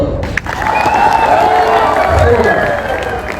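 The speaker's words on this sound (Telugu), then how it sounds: "ఒకసారి జోరు క్లాప్స్" A seated audience at a talk or training session claps loudly together, a dense, sustained burst of applause that fills the room, with some voices and cheers mixed in.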